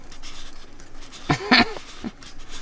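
A dog makes a few short noises indoors, two sharp brief yelps or whines close together, then a softer one, over a steady background hum.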